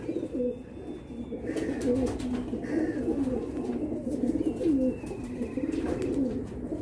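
Pigeons coo indoors, a run of soft, rolling low calls repeating steadily across several seconds, fairly close, with occasional faint chirps and clicks behind.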